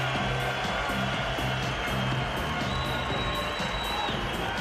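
Boxing arena crowd after the final bell of a Kubrat Pulev fight, a steady broad roar of cheering and shouting filling the hall at a constant level, with no clear break throughout.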